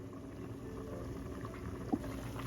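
Lamb and spinach curry simmers in a covered pot on medium heat, a soft, steady low bubbling with one small pop near the end.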